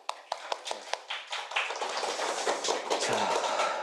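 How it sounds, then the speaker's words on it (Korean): A small group claps in encouragement during a Bible study session, opening with a few distinct claps and swelling into brief, close, scattered applause that lasts a few seconds. "격려의 박수"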